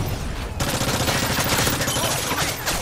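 Rapid automatic gunfire from a first-person shooter game on a Domination map, a loud, dense burst of overlapping shots that starts abruptly and rattles continuously for almost three seconds, with no speech over it.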